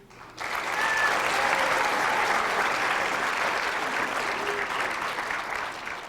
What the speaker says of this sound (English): Let us once again offer a resounding round of applause of these honorable mentions